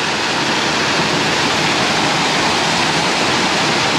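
Nojeokbong waterfall in Ansan, Gyeonggi-do, roars nearby with a loud, dense and unbroken rush of falling water that holds constant throughout, with no voices heard.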